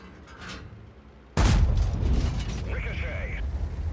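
A Chimera tank destroyer in the World of Tanks video game fires its cannon at an enemy turret: one sudden loud blast after a quiet stretch, followed by a heavy rumbling tail and mechanical in-game clatter.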